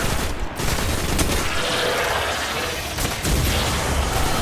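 Grenade blast and rapid gunfire from the video game Destiny on PS4, a dense continuous barrage of shots and booms filling the whole stretch at steady loudness.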